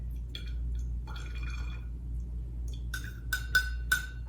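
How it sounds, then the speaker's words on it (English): Goldenrod tincture pours slowly through a strainer, giving sparse drips and small trickles that end in a few sharper liquid splashes, quiet and close with no talk. "Pour slowly so I don't splash everywhere."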